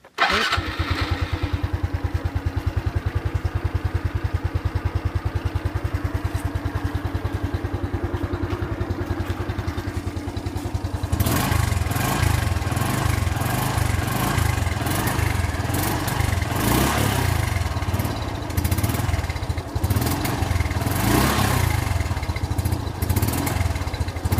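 A 110cc motorcycle running on E85 fuel starts and idles with a rapid, even putter, then revs up into a louder, uneven clattering run that continues close by without speech.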